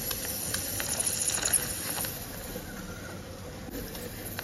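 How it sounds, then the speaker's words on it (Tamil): Steady hiss of steam escaping from a milk cooker boiling milk on a stove, under faint crackling noise, continuous at a moderate level with no voices. "இப்போ பாருங்கள் குக்கர்லேருந்து சவுண்ட் வருது"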